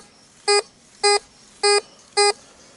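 Tesoro DeLeon metal detector sounding over a nickel buried at 6 inches, four identical bright electronic tones evenly spaced about half a second apart, clean and close against a quiet background.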